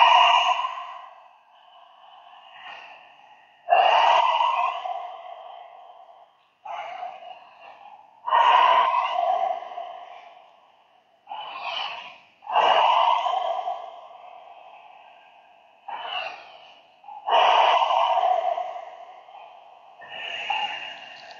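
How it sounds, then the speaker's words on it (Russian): Lion's breath (simhasana) yoga exercise: a series of about nine forceful, breathy exhalations, each starting with a sharp burst and fading out, spaced a couple of seconds apart, close and alone. "Симхасана, дыхание льва называется."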